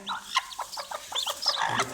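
A hen, a white Chabo bantam with hatching chicks, gives a quick run of short, close clucks in an uneven rhythm.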